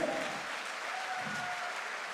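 Steady applause from a crowd, continuous and fairly distant, with no pauses.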